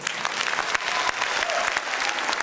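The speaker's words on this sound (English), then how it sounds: "A warm, warm round of applause, please." An audience breaks into loud, sustained applause, a dense, even wash of clapping hands that fills the room without any voices on top.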